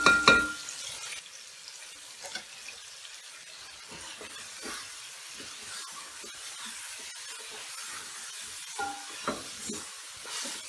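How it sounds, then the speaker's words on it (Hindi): Chicken and tomatoes frying in a pan, a quiet soft sizzle with faint intermittent stirring clicks and scrapes after a brief louder clatter at the start, no talking. "अब इसमें टमाटर डाल के भूनते हैं।"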